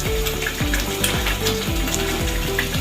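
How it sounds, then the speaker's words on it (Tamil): Water pours into a pot of mackerel fish curry made with tamarind, a steady rushing splash running the full length at close range, with no talk over it. "கொஞ்சமாக தண்ணியை சேர்க்குறோம்."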